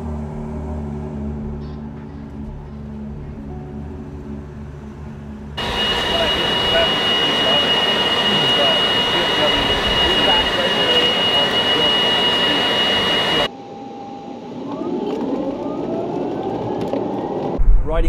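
A Lucid Sapphire electric car accelerates hard out of a corner onto a straight, its loud steady whine and road roar rising suddenly, holding for several seconds, then cutting off abruptly into quieter cabin noise.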